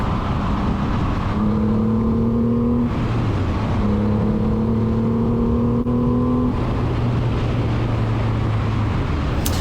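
A Triumph Rocket 3 motorcycle engine roars and revs hard at full throttle down a straight, pitch climbing through repeated gear changes as it accelerates, loud and continuous with wind rush.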